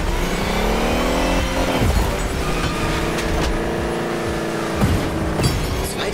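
Thor's Hummer roaring as it accelerates hard in The Crew Motorfest, a loud, steady engine drone with rising harmonic sweeps and brief shifts, continuous throughout with no voices.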